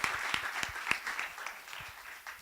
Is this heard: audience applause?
yes